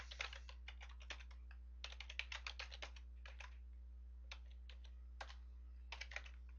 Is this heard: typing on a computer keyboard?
yes